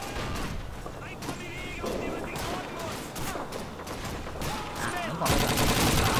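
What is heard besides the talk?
gunfire in the video game Call of Duty 2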